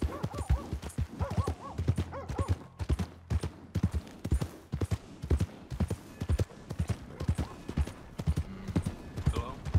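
In Red Dead Redemption 2, a horse's hooves gallop in a steady, fast clip-clop rhythm for about ten seconds, near and clear, while someone speaks briefly at the start.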